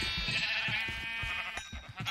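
Video game sheep bleat repeatedly in short rhythmic calls over a steady tonal game soundtrack, loud and close.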